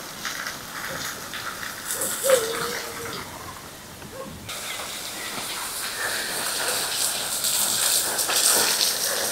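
Water is sprinkled lightly over garden soil mixed with cow dung, giving a soft, continuous hiss and patter that swells slightly toward the end.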